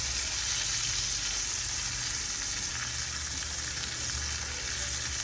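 Tri-tip steak sizzles in a pan with butter, giving a loud, steady, close frying hiss with no pauses and no voices.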